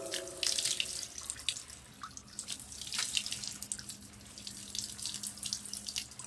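Tap water runs steadily into a sink as a man washes his face during ablution, with irregular splashes and drips from hands, close and continuous without talk.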